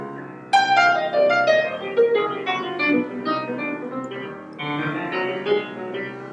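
Solo jazz piano plays a flowing swing-eighth line, the right hand improvising over sparse low chords and a walking bassline at moderate volume.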